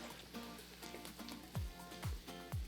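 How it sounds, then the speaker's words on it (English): Quiet, crackling sizzle of food frying in a pan, with soft pops and a few low thuds recurring in a loose rhythm. "we're just gonna let her keep sizzling until"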